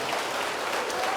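A church congregation claps together in a dense, continuous round of applause, filling the room at an even, fairly loud level with no pauses.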